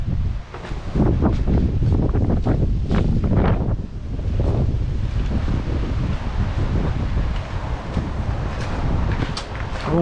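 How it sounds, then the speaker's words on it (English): Strong, gusty wind buffets the microphone at a stormy beach house construction site, a constant loud roar with surging gusts and rustling, with no voices. "it is very, very windy"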